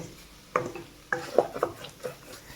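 Chopped ingredients being mixed into a spicy prawn fry in a pan, with a few distinct clanks and scrapes of a spoon against the pan over faint background.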